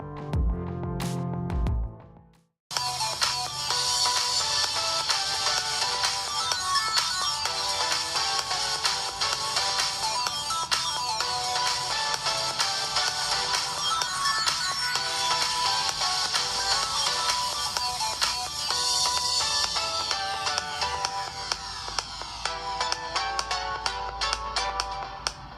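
A bright electronic ringtone from a Vivo Y55S mobile phone plays continuously, a busy melodic pattern looping for over twenty seconds after a brief silence.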